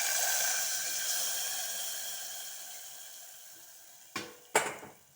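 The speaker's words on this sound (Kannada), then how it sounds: "ಒಗ್ಗರಣೆ ಹಾಕ್ತೇನೆ." A spice tempering sizzles as it goes into cucumber buttermilk curry, a soft fading hiss that tapers over several seconds before two sharp metallic knocks of a pan or spoon, close and with no talk.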